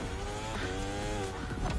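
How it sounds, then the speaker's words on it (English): A motorcycle in The Crew Motorfest braking hard, its engine note dropping in a series of falling tonal sweeps over a loud, dense bed of road and tire noise, close and alone without talk. "I had to slam the brakes there"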